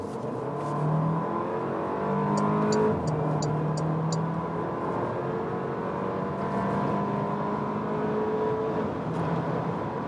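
A Porsche Cayenne SUV accelerates hard on a motorway from 50 to 150 km/h, its engine a steady droning roar with rising tones through gear changes, plus wind and road noise heard from inside the cabin, with faint chimes partway through.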